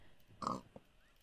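A pig in the video game Minecraft gives one short quiet oink followed by a faint second grunt, isolated against near silence.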